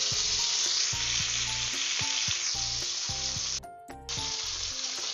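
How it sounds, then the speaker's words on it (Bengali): Hilsa fish heads sizzle and crackle in hot oil as they are flipped to the other side, a loud continuous frying hiss broken by short clatters of stirring and turning. "এক পিঠ হয়ে গেছে যেহেতু, সেই জন্য এটা আরেক পিঠ ভেজে নিচ্ছি।"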